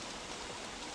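Steady rain falls in the game Don't Starve, a dense even hiss of drops with no pauses, fairly loud and unbroken for the whole second.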